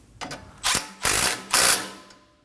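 Ratchet tightening a front brake hose nut on a 2017-2024 Nissan Armada: three short, close bursts of ratcheting clicks with brief pauses between them, and no talking.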